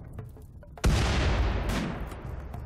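Gunfire in the video game Rimworld: a single sharp boom erupts and its rumbling tail lingers loud and close, with a few faint cracks before it and no talking.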